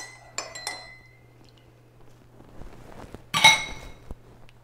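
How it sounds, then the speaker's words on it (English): A spoon clinks against glass while stirring French press coffee topped with rice milk, giving a few sharp, close chinks with a louder cluster near the end and quiet gaps between. "Stir it up with the spoon."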